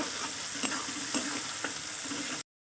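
Cumin, ginger, garlic and onion paste frying in a pan, a soft steady sizzle with a few light stirring knocks, ending abruptly in silence.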